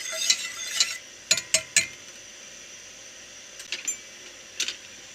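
Spoon scraping and clinking in a pot while butter and flour roast for kelle paça soup, a few sharp metallic clatters in quick bursts separated by quiet gaps, close and fairly soft.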